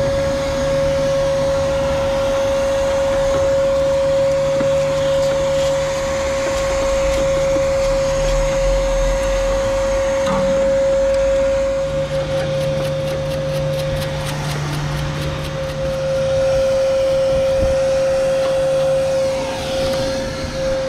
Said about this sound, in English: Put the vacuum on backwards, now it's blowing air out.